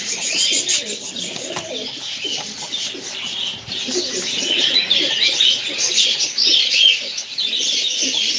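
Baska tumbler pigeons coo in a loft, with soft throaty calls and light chirps over a constant bright hiss of background noise, close and steady throughout.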